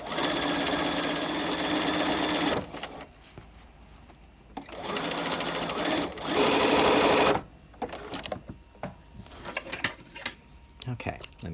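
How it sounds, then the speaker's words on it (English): A sewing machine stitches a raglan coat cuff in rapid, loud bursts of whirring needle strokes, separated by pauses filled with a voice talking and the rustle of fabric being handled. "as we're sewing the second side"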